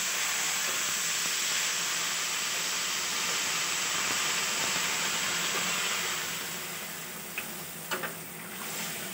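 Water poured into a hot pan of dalia khichdi hisses loudly at first, then settles into a steady, steamy bubbling sizzle that fades slightly, with a few light knocks near the end.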